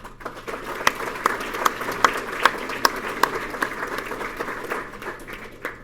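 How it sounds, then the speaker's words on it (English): An audience at a UCP candidates' forum in Red Deer South applauds, a steady patter of many hands clapping in a room with a few louder individual claps standing out. "So I'd like to give them a round of applause as well."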